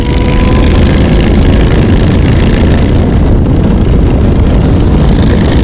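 A Triumph Bobber and a BMW S1000RR ride off on a Brunei road, a loud continuous engine drone heard close under heavy wind rush and buffeting, steady throughout with no speech.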